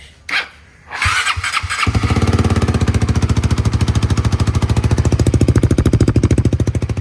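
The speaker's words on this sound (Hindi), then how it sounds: "तो यहाँ चलिए इंजन को स्टार्ट करते हैं" A KTM RC 200 BS4 motorcycle with a welded silencer starts after a few cranking bursts, then settles into a loud, rapid, steady idle chatter close by.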